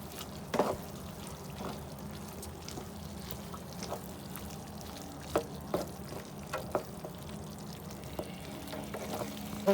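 Tomato and potato masala with capsicum being sautéed in a pan: a soft, quiet frying hiss with scattered sharp clicks and knocks from stirring, no voices.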